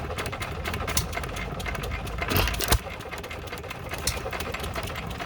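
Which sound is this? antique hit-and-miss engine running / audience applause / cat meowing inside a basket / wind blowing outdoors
antique hit-and-miss engine running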